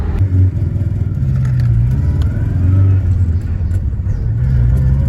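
A Tofaş Doğan S car engine rumbles steadily at close range, a continuous low drone with slight surges as the car drives along.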